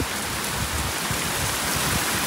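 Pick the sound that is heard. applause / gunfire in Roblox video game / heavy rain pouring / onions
heavy rain pouring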